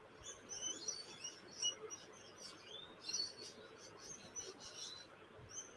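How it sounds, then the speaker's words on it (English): Small birds chirp and tweet outdoors, repeated short high calls scattered across several seconds at moderate distance, over a faint steady background hum. "birds are noisy as"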